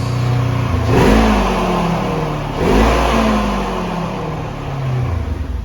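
A Polaris General XP UTV fitted with a turbo revs hard twice, the engine note rising and falling close by, then settles into a steady, loud idle.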